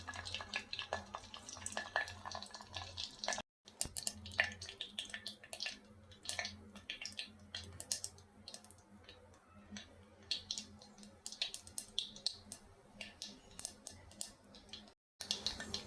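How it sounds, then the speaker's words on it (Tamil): Mustard seeds splutter in hot oil in a pan with rapid, irregular crackling pops and ticks. The sound holds steady at a moderate level throughout. "கடுகு பொரிஞ்சிடுச்சு"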